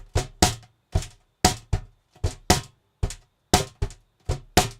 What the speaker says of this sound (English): it's the first drum you could sit on and kick while you play your guitar